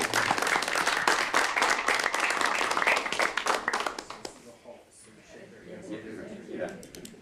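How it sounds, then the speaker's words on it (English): At a city council meeting, a round of applause from the room rises into dense, steady clapping for a few seconds, then thins and fades into scattered claps and murmuring voices. "Now we can give her a round of applause for her."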